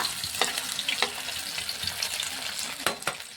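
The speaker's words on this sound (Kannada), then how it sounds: "ಒಂದು ಸೈಡ್ ಸರಿಯಾಗಿ ಬೆಂದಿದೆ ಇದನ್ನ ತಿರು ಹಾಕುವ" Fish fries in a pan with a close, steady sizzle, broken by sharp scraping clicks as the pieces are flipped over, no voices.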